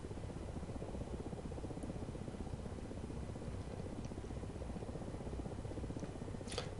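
Steady, continuous rotor and turbine drone of a Ka-50 Black Shark helicopter in the DCS flight simulator while taxiing, a dense even rumble with no talk over it.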